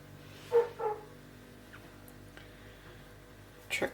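A dog barking at baby pigs gives two short yips near the start and another pair near the end, faint and somewhat distant against a quiet room.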